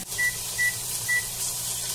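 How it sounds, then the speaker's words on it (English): A kitchen timer, set while cooking zucchini and asparagus risotto, gives three short, clear electronic beeps at uneven intervals over a steady background hiss. "I'm just going to go ahead and set my timer."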